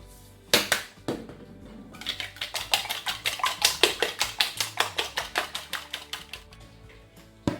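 A whisk beats eggs with salt in a bowl, each stroke a sharp metallic clink against the sides. After two isolated taps, the clinks settle into a steady rapid rhythm that slowly fades, close up, with no talking.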